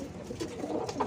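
Young pigeons give soft, low cooing calls in a short burst, close and fairly quiet, with faint rustling behind them.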